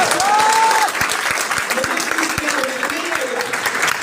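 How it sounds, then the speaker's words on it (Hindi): An audience at a school or college guest-lecture event in Mansa, Gujarat claps loudly and steadily throughout, dense continuous applause with a whistle near the start and voices mixed in. "तो जोरदार ताली बजाओ"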